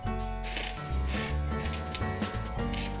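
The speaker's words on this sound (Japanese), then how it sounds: "2つ折りのお札と小銭を一緒に入れます。" Coins and folded paper bills drop into a handmade mini wallet, giving a few bright metallic clinks and rustles over a steady low background.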